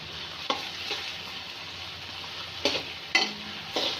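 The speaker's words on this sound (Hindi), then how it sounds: "अब हम इसे 4 से 5 मिनट तक फ्राई करेंगे ऑयल में।" Cubed potatoes fry in hot oil for an egg and potato breakfast dish, giving a steady close sizzle with a few brief scraping stirs and clinks of a spoon against the pan, with no talking.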